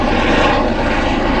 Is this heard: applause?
no